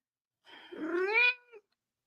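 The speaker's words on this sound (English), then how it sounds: "That cat and her attitude." A single cat gives one drawn-out, rising meow that ends in a short clipped tail, heard alone and fairly close in an otherwise quiet room.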